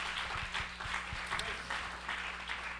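A church congregation at an evening radio prayer gathering applauds in a steady, moderately distant patter of many hands, with a low electrical hum and a few soft thumps underneath.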